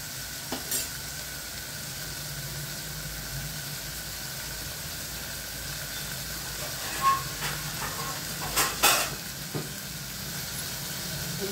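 Tomatoes frying in a pan: a steady, quiet sizzle and hiss runs throughout, broken by a few soft clinks and stirring knocks, no talking.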